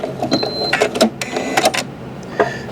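A Janome sewing machine stitches a buttonhole in fabric with a quick, uneven series of close mechanical clicks and whirs, about three seconds long.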